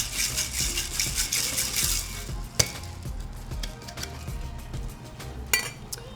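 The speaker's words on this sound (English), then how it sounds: "we're just gonna top it off with a generous scoop of ice and give it a nice shake" A margarita shaken with ice in a cocktail shaker gives a rapid rattling churn of ice for a couple of seconds, followed by scattered clinks and taps.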